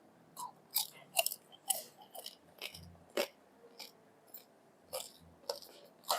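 Crunchy fried pork lechon kawali is bitten and chewed up close, giving a string of sharp crackling crunches in an irregular rhythm with short pauses between bites.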